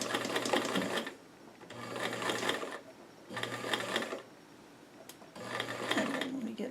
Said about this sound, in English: Alright, now sew those together.